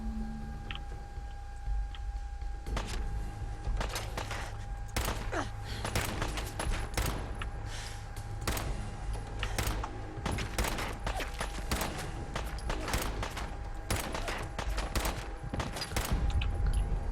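Rapid, repeated gunfire in the video game Fallout 4: sharp shots and bursts crack continuously for many seconds over a steady background hum, with a heavier volley near the end.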